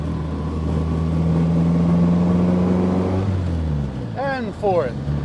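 A 1957 Morgan Plus Four drophead's engine drones loudly up through the gears, its steady tone climbing and then dropping at a shift; a voice follows briefly near the end.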